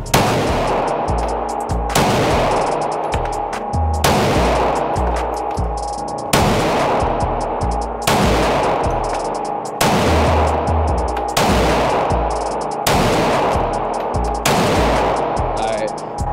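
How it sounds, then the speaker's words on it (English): A Glock 19 MOS pistol fires at a shooting range, with about nine loud, sharp shots spaced roughly every two seconds, each leaving a ringing decay. The shots are close and dominant. "you can actually see me shoot the gun"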